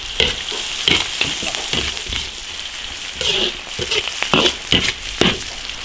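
Shrimp with chili, spices and hot pot base stir-fry in a wok, under a loud continuous sizzle broken by repeated sharp scraping strokes of the spatula, close and busy throughout.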